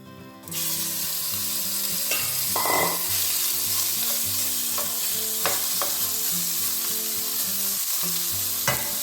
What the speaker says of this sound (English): go back in with a little bit more olive oil. Then straight in with your lamb.